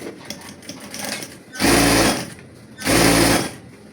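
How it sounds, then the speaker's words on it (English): A sewing machine top stitching pyjama pants runs in two loud, close bursts of about half a second each, separated by a pause, over quieter handling noise. "I'm going to go ahead and top stitch the outer parts"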